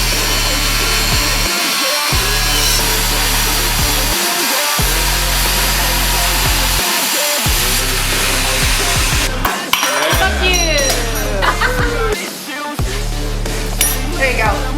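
A Makita power tool cuts through a metal horse noseband, a loud droning hum broken by short pauses, with metallic clinks and scraping growing busier near the end.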